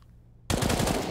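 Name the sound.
gunfire in Counter-Strike video game, Mirage map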